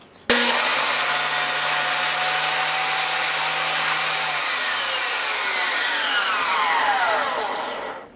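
A power saw cuts wood for the inner support of a vacuum cleaner motor assembly, a loud steady whine that runs alone for several seconds, then winds down and trails off.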